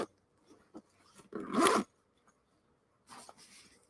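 Zipper on a pistol range bag pulled in a few short rasps, with one longer, louder zip in the middle and a softer run near the end, close up in a quiet room.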